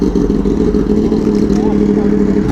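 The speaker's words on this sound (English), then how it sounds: "Nigel's bike looks sick and sounds sick." A motorcycle engine drones loudly and steadily during a sport-bike group ride alongside an Aprilia Tuono V4 Factory, Yamaha R1, BMW S1000RR and M1000RR, with a slight rise in pitch partway through.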